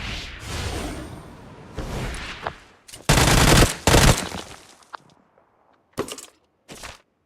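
Rapid bursts of video game gunfire crack and rattle in loud volleys, then fall silent before a few shorter, sharper shots near the end.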